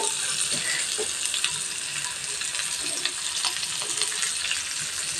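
Chopped onion fries with garlic in a pan for a stuffed bitter gourd filling, giving a steady, close sizzle with light crackles throughout.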